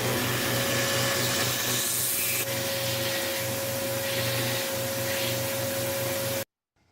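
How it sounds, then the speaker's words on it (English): A big homemade grinder cleans burrs off a metal part that was cut out with a cutting disc, giving a loud, steady motor whine with a constant tone that runs on unbroken, then cuts off abruptly near the end. "I cleaned up the burrs left from the cutting disc on my big homemade grinder"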